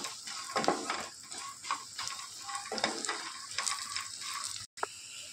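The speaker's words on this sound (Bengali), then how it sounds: "বড়িগুলো দিয়ে ভালো করে, খুব একটা বেশি না, তবে মোটামুটি ভেজে নেব।" Lentil dumplings (bori) fry in hot oil with a soft, crackling sizzle, broken by intermittent stirring scrapes and light clinks of a utensil against the pan, heard close but at low volume.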